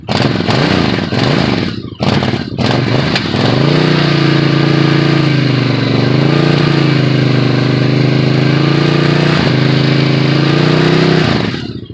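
A motorcycle engine settles into a loud, steady idle right after starting, still on choke and running on last year's leftover gas, with a brief revving stumble early and then an even, throbbing rumble close up.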